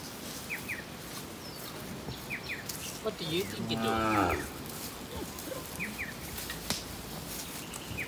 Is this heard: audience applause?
no